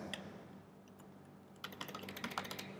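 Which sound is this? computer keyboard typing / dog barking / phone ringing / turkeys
computer keyboard typing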